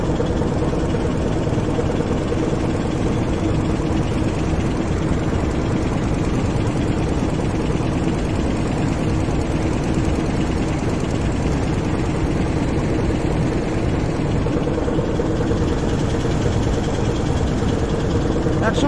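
A motor boat engine drones on the Hooghly river, a loud, steady low rumbling throb that holds evenly from start to finish, close by and uninterrupted.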